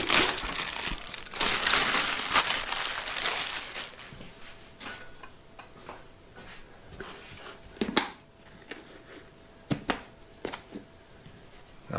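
A plastic bag crinkles and crackles as an item is unwrapped, loud dense rustling at first, then thinning into scattered sharp crackles and brief pops near the microphone.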